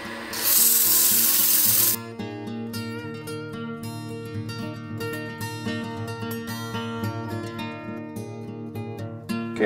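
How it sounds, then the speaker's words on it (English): A brief loud burst of harsh, broadband rubbing from a 120 grit sanding sponge on wood, then music with steady notes continues for the rest of the clip. "I've got a 120 grit sanding sponge."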